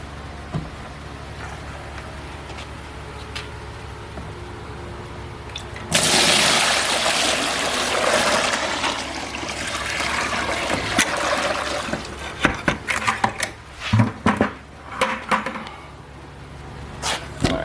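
Water pours steadily into a tank being filled for rust-removal electrolysis, a loud continuous gush starting partway through after a quieter stretch, ending with a few splashes and clunks near the close.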